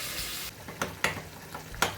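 Tadka tempering sizzles in a pan at close range, a loud, steady hiss of hot frying broken by a few sharp stirring scrapes and spits, with no voices.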